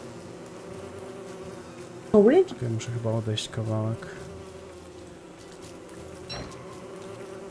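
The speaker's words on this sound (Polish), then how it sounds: "Ej, no nie mogę złapać pszczoły." Steady insect-like bee buzzing from the survival game Don't Starve Together hums in the background throughout, while someone talks loudly over it in the middle.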